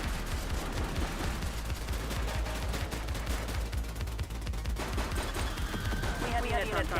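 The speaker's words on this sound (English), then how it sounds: "He's shooting!" Sustained automatic gunfire in the police game The Precinct, a dense, steady rattle of shots at close range lasting throughout, with shouting voices mixed in toward the end.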